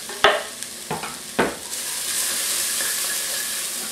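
Onions and tomatoes for a spaghetti sauce sizzle in a pan, opening with a few sharp stirring clanks before settling into an even, hissing sizzle.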